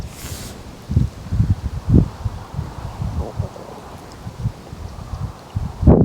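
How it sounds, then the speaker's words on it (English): Gusty wind buffets the microphone beside a fishing lake, irregular low rumbling bursts and rustling that swell and fade across the whole stretch. "the wind's getting up again"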